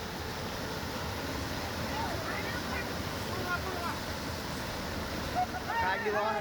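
Floodwater surges through Lonar in Buldhana with a steady, dense roar that fills the scene, while faint voices rise briefly near the end.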